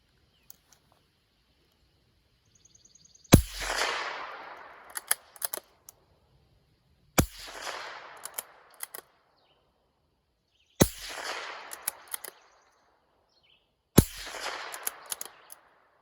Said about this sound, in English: I'll go ahead and play the footage of me shooting it